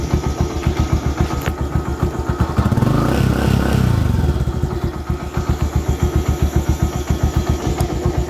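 A Yamaha YTX 125 motorcycle engine runs close by with a fast, regular idle thump, swelling briefly into a smoother rev around the middle before settling back to the pulsing idle.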